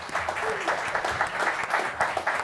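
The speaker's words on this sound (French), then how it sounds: "vous les clubs dans la salle, applaudir très fort les 3 tireurs qui ont fait un sans faute" An audience in a hall at a shooting club awards ceremony claps steadily, a dense, moderately loud round of applause that continues without a break.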